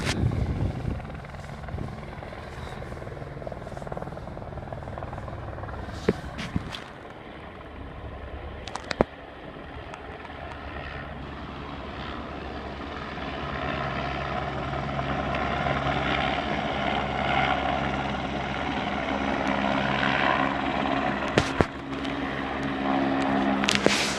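A helicopter's rotor and engine drone growing steadily louder as it approaches and sets down nearby at a helicopter base in Sept-Îles, Quebec, with a few sharp knocks along the way.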